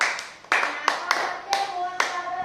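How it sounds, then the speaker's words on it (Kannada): A small group, seemingly children in a classroom, claps in short uneven bursts for a boy named Praveen, sharp close hand claps with a few brief voices mixed in. "ಚಪ್ಪಾಳೆ ಹೊಡ್ರಿಪ್ಪ ಎಲ್ಲರೂ ಪ್ರವೀಣ್ಗೆ."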